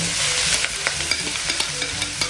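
Chicken pieces frying in a hot pan for chicken sisig, a steady loud sizzle with scattered stirring clatters and spatula scrapes throughout, no talking.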